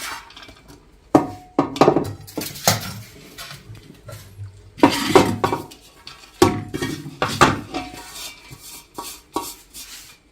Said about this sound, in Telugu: కుక్కర్లో వేస్తున్నాము అన్నీ.